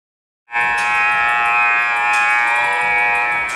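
A loud, steady electronic buzzer sounds before a high school basketball game between McAlester and Tulsa Memorial. It cuts in abruptly and holds as one continuous harsh tone to the end.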